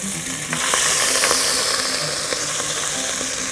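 Garlic dropped into hot oil, setting off a loud, close, continuous sizzle with light crackling and occasional stirring taps, heard alone without speech.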